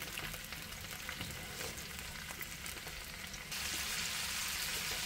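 Lobster head and shells sear in a hot pan with a dense, steady crackling sizzle, close-up and continuous, growing slightly brighter and louder toward the end, with no talking.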